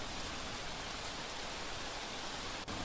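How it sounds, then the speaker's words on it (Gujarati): Monsoon rain falls across Gujarat as a faint, even hiss of downpour that stays constant without breaks or voices. "ભરૂચ, સુરત, તાપીમાં પણ વરસાદ સતત વરસી રહ્યો છે।"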